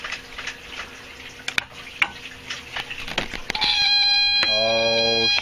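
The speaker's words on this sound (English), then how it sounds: "That's the low oil pressure alert, which comes on when the motor's not running" A low oil pressure alert on a Sea Ray boat sounds with the motor off, starting abruptly as a steady harmonic buzzing tone that holds to the end, after scattered clatter and faint movement noises.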